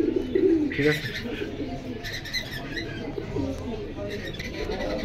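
Pigeons coo and flutter softly among the pigeon stalls of Jinjira bazaar in Keraniganj, a busy market scene with a few brief chirps under nearby talk and background chatter.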